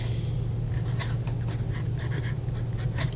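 A freshly sharpened vintage Statesmen #2 pencil scratches across paper in quick, repeated close strokes over a low steady hum.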